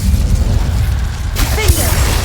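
Fire spell Incendio cast in Hogwarts Legacy: a rushing, crackling burst of flame flares up midway over a low rumbling game backdrop, then trails off.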